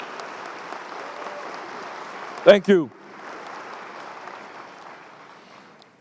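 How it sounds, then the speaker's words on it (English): Audience applause fills a college commencement ceremony, a steady wash of clapping from a large crowd, briefly broken midway by a short spoken phrase close to the microphone before the clapping resumes. "Let's give these individuals a round of applause."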